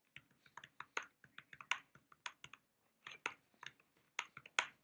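Rapid, irregular clatter of keys on a computer keyboard, close and clear, with short bursts of keystrokes separated by brief pauses and no voices.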